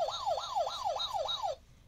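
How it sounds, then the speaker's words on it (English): A toy fire truck's electronic siren wails in a steady rising-and-falling sweep, five quick cycles repeating close and loud before cutting off abruptly, with no talking. "There's the sirens"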